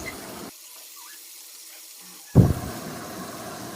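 Potato pieces drop into hot oil with five-spice seeds and chopped onion, for a climbing perch curry. After a near-silent stretch, a sudden loud burst of sizzling erupts and eases into a steady hiss.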